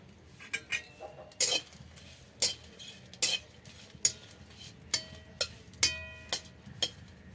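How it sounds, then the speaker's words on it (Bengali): Dry red chillies toast in a hot, oil-free wok for mango pickle. Repeated metallic clinks and scrapes of a spatula stirring against the pan ring out close by, over a faint, dry crackle. "আমি কাঠখোলা শুকনো লঙ্কা ভেজে নেব"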